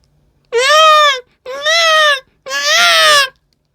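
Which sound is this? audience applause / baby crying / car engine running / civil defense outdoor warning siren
baby crying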